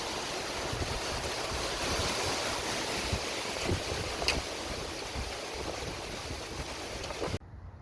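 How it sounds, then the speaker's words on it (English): Strong gusting wind roars steadily and broadband across the open air at a truck camper build site, loud and continuous for several seconds with no voices, then cuts off abruptly near the end. "It got crazy windy."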